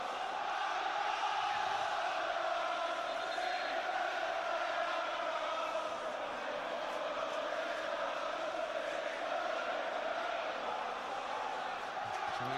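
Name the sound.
football crowd cheering at Fulham v Chelsea match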